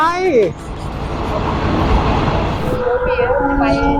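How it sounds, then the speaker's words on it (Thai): A train rumbles past close by in rural Surin, Thailand, a loud broad roar filling the whole clip, with a voice speaking briefly at the start and tonal whistles or horn-like tones near the end. "รถไฟ"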